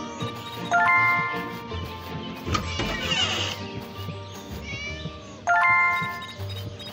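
Cartoon cat meows from an animation come in short, bright calls, with a louder one near the start and another near the end, mixed with light jingling chimes and background music.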